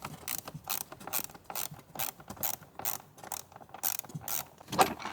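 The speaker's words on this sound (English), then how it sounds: "There are two more screws hiding right at the back, as always, so I need to just get those out." Screws being undone at the rear of a Mercedes W164 ML450 CDi 4MATIC during a home service, a close, rapid series of ratchet clicks in repeated bursts, loud and steady with no talking.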